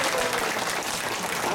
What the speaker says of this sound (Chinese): 我们给他一个最热烈的掌声。